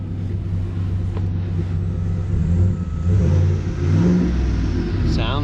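A new Chevy short-bed pickup truck engine with an aftermarket exhaust revs loudly up close, giving a deep, steady rumble that swells in a couple of throttle surges and settles back, with no talking over it.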